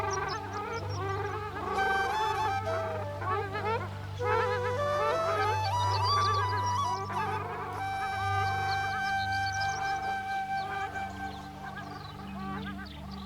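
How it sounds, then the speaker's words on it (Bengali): A flock of migratory ruddy shelducks calls from a green field on Nijhum Dwip island. Their overlapping nasal honks continue nonstop and fairly close over a low steady background hum. "এই সবুজ প্রান্তরে আজ আমরা দেখছি একদল অতিথি খয়রা চোখাচোখি বা রাডি শেলডা।"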